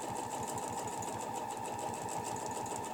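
A sewing machine stitches around holly leaves on a quilt, making a soft, steady, rapidly pulsing hum at an even pace with no pauses and no talk.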